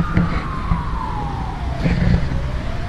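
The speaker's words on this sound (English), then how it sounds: "fast moving ambulance" A wailing siren sweeps past, its pitch gliding steadily downward as the vehicle speeds away through rumbling road noise.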